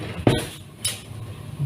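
A metal spoon and fork clink against dishes in a home kitchen while Swedish pancakes are made. Two short, bright clinks sit close together over faint room noise.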